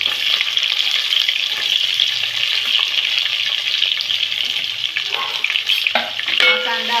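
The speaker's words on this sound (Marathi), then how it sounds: "कांदा आपण 5 मिनिटं शिजवून घेऊया, गोल्डन ब्राउन होईपर्यंत" Onion with curry leaves fries in a pan for a clam biryani, producing a loud, continuous close sizzle that hardly varies, with a few clinks and stirring sounds near the end and no speech.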